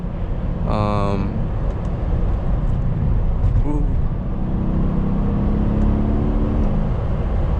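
A 2016 Mercedes-Benz E63 S AMG engine hums and rises in pitch as it accelerates, with a deep tone under steady road noise and brief voices.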